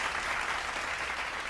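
Studio audience applause on a celebrity talk show, a dense, steady wash of many hands clapping at once, sustained and even throughout with no voices breaking through.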